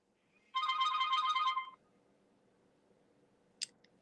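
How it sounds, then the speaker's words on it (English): An incoming call to a call-in talk show sounds as a single short burst of electronic telephone ringing, followed by quiet and a brief click. "we have a phone call coming in"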